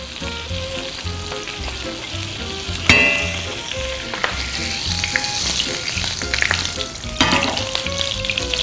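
A piece of saganaki cheese fries in butter and olive oil in a pan over a medium-high flame, giving a steady close sizzle and crackle with a few sharper pops and spatters.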